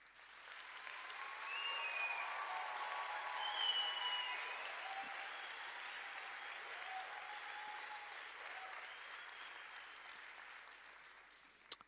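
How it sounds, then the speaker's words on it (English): A graduation ceremony audience gives a sustained round of applause, steady, moderately distant clapping that swells and then holds for about twelve seconds in a large hall. "our graduates to acknowledge their support with a hearty round of applause"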